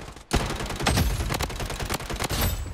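Gunfire in the video game Blood Strike: a rapid burst of automatic shots, loud and close, firing in dense repeated cracks across nearly three seconds after a brief silent start.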